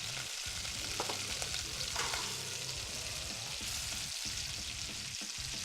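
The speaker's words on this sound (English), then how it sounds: "So now I'm going to take some fat, throw it in the pan." Fat sizzles in a hot frying pan during late-night home cooking, a steady, close hiss that runs unbroken, with a few soft utensil clinks near the start.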